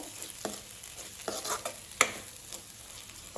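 A spoon stirring chilli powder into bitter gourd gravy in a pan, giving a series of close scraping taps and clicks, one sharper knock near the end, over a soft background sizzle with no talking.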